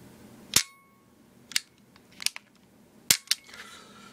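A Sig Sauer P228 pistol is dry fired, with five sharp mechanical clicks from its stiff double-action and single-action trigger, close and crisp against a quiet room, spaced irregularly with two clicks in quick succession near the end.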